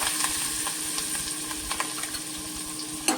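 Chilli pickle and finely chopped coriander sautéing in a hot oil tempering, a steady low crackling sizzle with faint stirring clicks throughout, moderately close and without speech.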